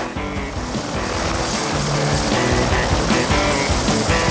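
A medical helicopter at a landing zone thrums loudly and close with a continuous rotor and engine roar throughout, with no talk over it.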